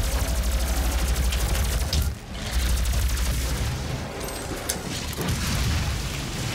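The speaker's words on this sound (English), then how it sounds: "let's go to the plasma rifle" A plasma rifle fires in DOOM as a dense, continuous stream of rapid pulsing shots with heavy low booms, briefly interrupted and then resuming, loud and close.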